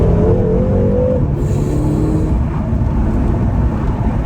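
BMW M6 F13 coupe accelerating hard in second gear, a loud steady engine roar heard from inside the cabin with a rising tone, sustained and close throughout.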